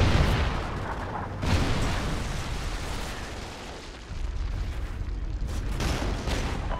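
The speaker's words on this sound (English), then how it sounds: "Friendly Trinity rocket inbound." A Trinity rocket strike in a video game explodes as a loud, dense rumbling blast, with a sharp renewed burst near the middle and another swell toward the end.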